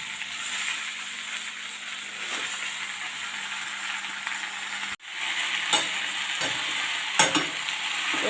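Water spinach greens stir-fry with onion and garlic in a pan, a loud continuous close sizzle that briefly cuts out midway, then resumes with intermittent scraping stirs; no voices.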